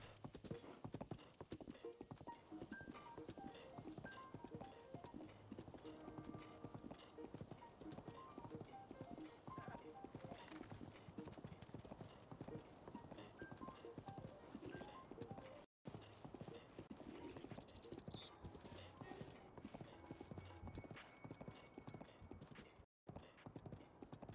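Horse hooves clip-clop steadily in a video game, with several riders passing on a path near cliffs, a continuous rhythmic trotting that stays fairly faint throughout.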